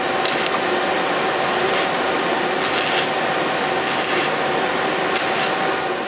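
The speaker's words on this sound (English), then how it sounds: "if you take a drill bit like this that's been broken off and simply file it" A hand file rasps steadily against a broken-off drill bit, grinding its end flat in repeated back-and-forth strokes, with brighter bursts at each stroke over a continuous scraping texture.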